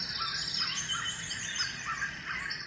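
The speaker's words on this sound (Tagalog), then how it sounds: "bird tweet." Recorded bird tweets play from a Momcozy white noise machine, repeated high chirps and squeaks in a steady loop at low volume, with no voices.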